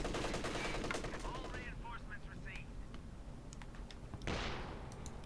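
Gunfire and an infantry support gun shell in a Company of Heroes 2 battle: bursts of rapid shots followed by a heavier impact, heard fairly quietly beneath the game's background noise.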